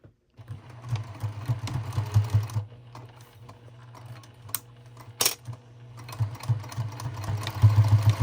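An embroidery machine stitches an in-the-hoop zipper placket on thick layered fabric, a steady low motorized hum with rapid needle chatter running through most of the stretch, briefly dropping off midway before resuming louder near the end.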